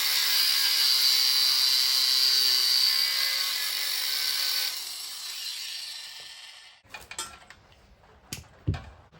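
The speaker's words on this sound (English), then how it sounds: "Easiest way to cut a winch rope is with a grinder." Winch rope on a vehicle cut with an angle grinder, a loud sustained high-pitched whine with a grinding hiss that fades out after several seconds, followed by a few scattered clanks and knocks.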